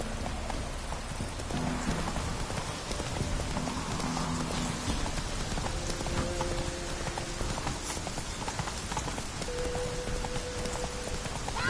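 Roach the horse gallops in a video game, with quick rhythmic hoofbeats under a continuous hiss of rain, and faint tonal game sounds drifting in now and then.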